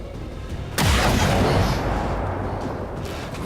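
A single loud gunshot rings out in XCOM 2, a sharp broadband crack with a long booming tail that slowly fades over a couple of seconds, with no talking over it.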